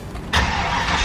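A carbureted Ford Mustang SN95 cranks and fires after a couple of throttle pumps, a sudden roar settling into a loud, close, steady run.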